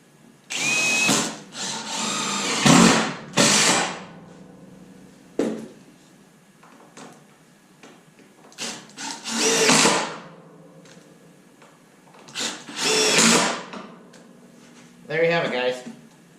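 A power drill drives screws into wooden boards on a utility trailer rail, in several loud whirring bursts of a few seconds each with quieter pauses between, while someone talks over and between the bursts.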